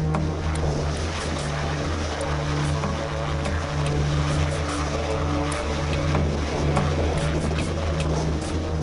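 A rescue helicopter hovers overhead during a storm in Alaska, its rotor and engine roar loud and continuous, with a low rhythmic thrum throughout.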